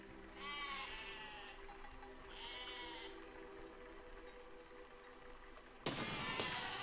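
Sheep bleat in the physics game Besiege, a couple of wavering calls over a steady low mechanical hum, followed by a sudden loud burst of noise near the end.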